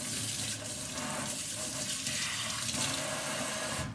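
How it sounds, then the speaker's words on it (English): Hands are washed under a running tap, a steady close rushing stream of water with slight shifts as the hands move through it, heard alone for a few seconds. "Let me wash my hands."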